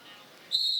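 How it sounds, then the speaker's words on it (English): A referee's whistle starts a jam at a roller derby season finale bout, a single sharp sustained blast cutting in suddenly over faint arena background. "And there's the whistle."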